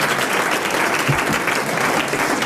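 A studio audience at a 1992 French television game show gives a short, loud burst of applause for a contestant's win, dense clapping lasting a couple of seconds.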